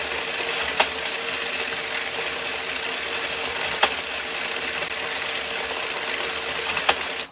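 Power drill cranking an Addi knitting machine, a steady whirring motor drone running evenly throughout, with a few sharp clicks at intervals and no talking.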